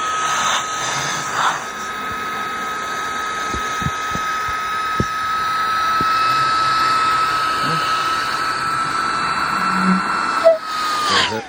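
A Makita cordless air blower inflating a SUP paddle board whirs steadily with a high, whistling hiss as air rushes through, punctuated by a few soft clicks and knocks.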